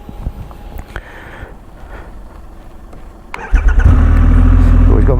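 A 2022 Triumph Rocket 3 R motorcycle engine cranks and fires at about 3.5 seconds, settling into a loud, deep, steady idle after a quieter stretch of background noise and brief talk.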